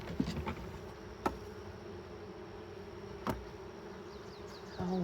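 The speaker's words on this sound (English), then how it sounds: "Lots of bees up there though." Honey bees buzz in a steady, dense drone around their hive, a continuous hum with a few sharper clicks and knocks breaking through.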